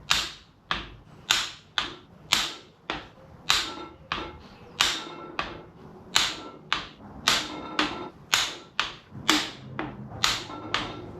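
A torque wrench clicks as a Honda D16 cylinder head is tightened in steps to 60 foot-pounds. Sharp, close clicks repeat about twice a second in a steady series of more than twenty, with no voices.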